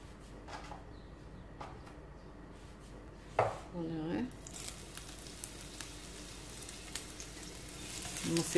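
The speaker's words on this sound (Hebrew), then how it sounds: "ואני מתגנת את הבצל עד שהוא נעשה שקוף." Onion rings frying in a few spoonfuls of oil over medium heat: a brief clatter as they go into the pan, then a continuous hissing sizzle that swells and holds steady, close by.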